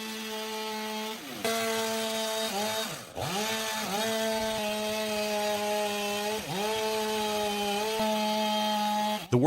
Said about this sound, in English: The worker uses a chainsaw to even out the edges of the logs